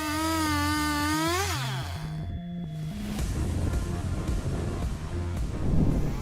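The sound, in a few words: MS661 chainsaw sawing large poplar logs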